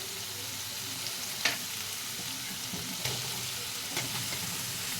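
Chopped tomatoes sizzling in a pan with fried onions and ginger-garlic paste, a steady moderate hiss punctuated by a few distinct spoon knocks and scraping stirs.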